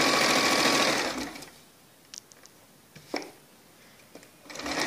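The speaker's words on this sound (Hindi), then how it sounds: "मैं इसमें 2 सिलाई लगाऊंगी, एक सिलाई और लगाऊंगी।" A sewing machine stitching a blouse runs in a steady whir at the start, stops for a quiet stretch broken by a few small clicks and taps, then starts up again near the end.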